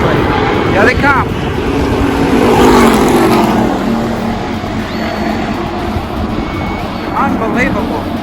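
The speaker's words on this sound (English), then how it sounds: "we've got 2 cars on the track coming here, and hopefully we can catch this. They go by really quickly." Two race cars sweep past on the Daytona International Speedway track, a loud engine roar rising and falling as they pass close by, with continuous crowd or wind noise and a voice speaking over it.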